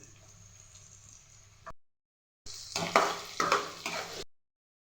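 Beetroot dropped into a frying pan with curry leaves and cumin, giving a sudden sizzle and stirring scrapes in two short bursts separated by silence, after a faint background hum.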